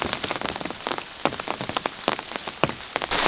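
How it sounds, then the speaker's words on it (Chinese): Rain falls on hard surfaces outdoors on a farm, a dense close patter of individual drops hitting sharply and irregularly, with no talking. "今天下雨哦"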